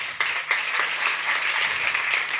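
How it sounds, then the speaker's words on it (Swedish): An audience claps to welcome the hosts onto a seminar stage, a steady, moderately loud patter of applause lasting the whole moment with a faint hum beneath. "en applåd till de här herrarna"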